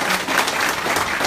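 Audience at an English-language seminar applauding, a short dense burst of clapping heard close and fairly loud, with no voices over it.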